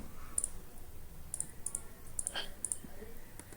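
A computer mouse clicking a handful of times, crisp short clicks, some in quick pairs, close but faint against a quiet room hum.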